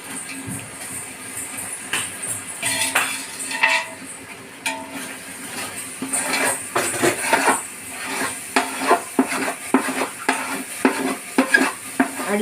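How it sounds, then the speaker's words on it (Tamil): Rice for a large wedding-style Muslim biryani, about two kilos, being stirred in a big pot: repeated scraping and clattering strokes of a spoon against metal, close and fairly loud, with a soft sizzle underneath and no talk. "அடி பிடிக்காம கொஞ்சம் கிளறி விட்டுக்கிட்டே இருக்கணும்"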